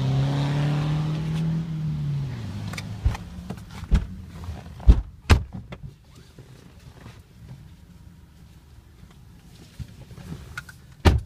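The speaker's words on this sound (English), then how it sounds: "Let's take you guys on a short test where I show how the vehicle drives." A 2013 Chrysler 300 on a test drive, its engine revving briefly before settling into a low interior rumble, with scattered clicks and thumps from the cabin and no talking.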